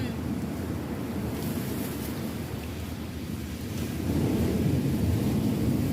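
Strong ocean waves at Cheung Sha beach roar and wash in a continuous, broad rumble with wind noise on the microphone, swelling louder toward the end.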